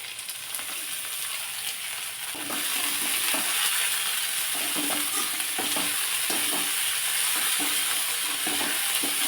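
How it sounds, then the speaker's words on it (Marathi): Chopped dill greens and coriander sautéing in a pan over a low gas flame, a continuous soft sizzle that grows fuller after a few seconds, with scraping stirs throughout and no talk. "गॅसची फ्लेम कमी ठेवायची आणि व्यवस्थित चांगली ही भाजी परतून घ्यायची आहे"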